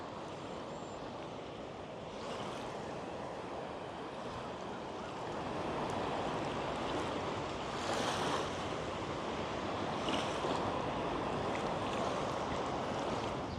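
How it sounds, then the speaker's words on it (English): A steady broadband rush of flowing river water, heard from a parked truck near Yellowstone, continuous and moderately loud, with slight swells and some wind buffeting. "we can hear the river from the truck"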